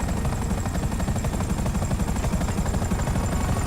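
Dense, continuous automatic gunfire rattles nonstop in a GTA Online shootout against a drug gang, with rapid overlapping bursts at steady loudness throughout and a faint high whine above.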